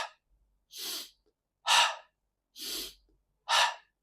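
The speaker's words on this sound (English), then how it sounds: "So what you should do is to inhale through the nose" Four deep, slow breaths in a steady rhythm, inhaling through the nose and exhaling through the mouth, each breath close and clearly audible with short silent pauses between them.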